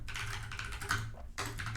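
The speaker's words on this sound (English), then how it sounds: "So if you want to write, you can just start typing." Close, steady clatter of typing on a computer keyboard, a dense run of key clicks with a brief pause before another quick burst, alone without talk.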